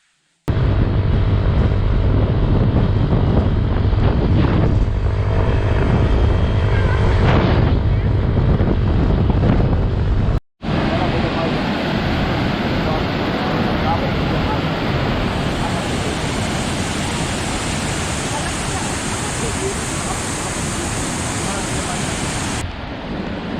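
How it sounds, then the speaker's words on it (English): Fourteen Falls waterfall in Kenya roars as a loud, steady broadband rush of falling water, continuous throughout with some wind buffeting the microphone and a brief dropout partway. "So this is called 14 Falls waterfall"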